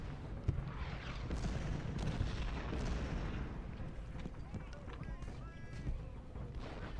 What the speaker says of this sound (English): Our artillery is providing covering fire,